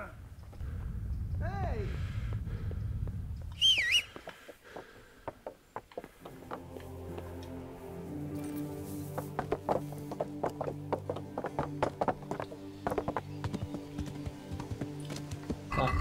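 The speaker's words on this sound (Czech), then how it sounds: "Teď si zavolám koně a jdu pryč." A rider in Kingdom Come: Deliverance gives a brief whistle-like call for the horse, and after a short pause a steady, close clip-clop of hooves begins and continues to the end. A voice talks near the start, before the call.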